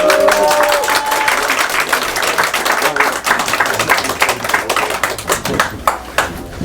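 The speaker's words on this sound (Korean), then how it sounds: "박수 한번." A crowd claps for a group of YouTubers at a party members' gathering in a political party's office, with dense, steady applause that thins slightly toward the end, over a murmur of voices.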